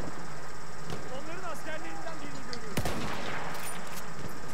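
Gunfire in the shooter game Battlefield 1 during sniping play: a sharp loud shot cracks near the middle amid a busy battlefield din, with talk running over it.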